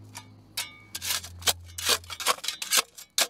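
Several sharp, irregular scraping strikes of a digging tool against hard, rocky ground, close by, with a low hum underneath.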